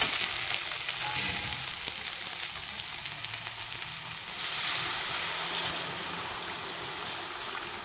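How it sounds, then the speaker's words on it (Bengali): Half a litre of milk is poured into pumpkin frying in a pan for halwa, a constant close sizzle that swells into a louder rushing hiss as the liquid hits the hot pan. "তো এখানে হাফ লিটার দুধ দিয়ে দিলাম আমি।"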